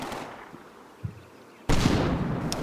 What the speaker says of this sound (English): This, I believe, is secondary explosions, just the tank cooking off